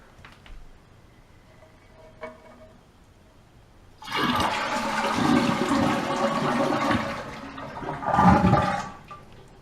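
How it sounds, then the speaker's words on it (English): A toilet flushing after its Fluidmaster lever is pushed down: a few faint clicks, then a sudden loud rush of swirling water lasting several seconds, closing with a gurgling surge. "so when this pushed down, it will pull the chain and flush."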